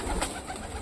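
A pet pigeon gives a brief, close, soft coo in a home cage setting, with no one speaking.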